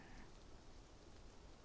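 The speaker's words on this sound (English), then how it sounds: "Just listen to the rain." Rain falls steadily at night in an even, soft hiss, faint and constant with no other sounds.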